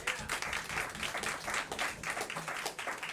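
Comedy club audience claps in uneven bursts, a lively, fairly close patter of many hands swelling and dipping in waves across the room.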